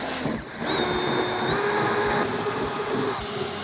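Power drill enlarging a bumper clip hole to 12.5 mm while fitting a GR Corolla body kit, a steady close whine holding for several seconds with a brief start-up.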